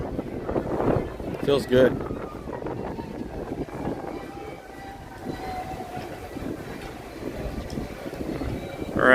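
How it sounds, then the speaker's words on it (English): Breeze rushes past a Skyliner gondola cabin at Walt Disney World, a continuous airy roar mixed with cabin rumble and a few creaks, while a person talks briefly over it. "getting breezy now"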